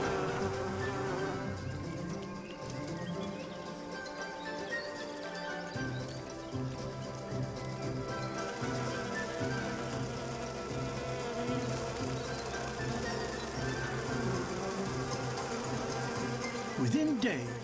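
Honeybee workers buzzing inside their hive, a dense continuous drone that stays steady throughout, with a narrator speaking over it.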